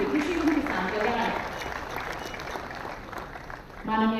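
Audience applause at the 98th foundation day ceremony of the Indian Council of Agricultural Research as a state minister is welcomed, a steady wash of clapping that fades toward the end, with an announcer's amplified voice over it.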